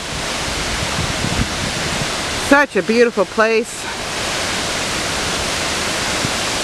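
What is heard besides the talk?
waterfall at Shellburg Falls, Santiam State Forest, Oregon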